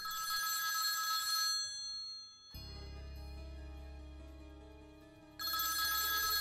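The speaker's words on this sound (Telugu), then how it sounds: "రెండుసార్లు ఫోన్ వచ్చింది." A telephone bell rings in two bursts, one at the start and another at the end, with a quieter stretch of low hum between them.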